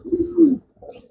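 Pet pigeons at home give low, throaty coos, two swelling phrases close to the mic, then a softer murmur after a short pause.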